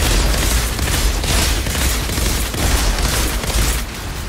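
Dense, continuous combat noise from the co-op shooter Outriders Worldslayer, with rapid gunfire and booming blasts from mortar enemies layered into a loud, unbroken barrage.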